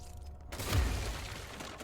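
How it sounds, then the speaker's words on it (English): Glass shatters in the video game Control: a sudden broadband crash that bursts in after a brief quiet, then settles into a rough, crackling tail of debris lasting over a second. "oh, that was a faster way to break glass"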